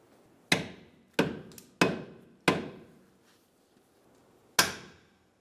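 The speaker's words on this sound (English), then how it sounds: "you can use a soft-faced hammer to hit this bolt in" Five sharp, ringing soft-faced hammer strikes tapping a bolt into a 2011-2014 Hyundai Sonata parking brake assembly, spaced unevenly with a longer pause before the last, each decaying quickly in a quiet space.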